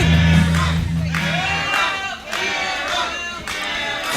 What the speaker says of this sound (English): Crowd firmly behind Arrow.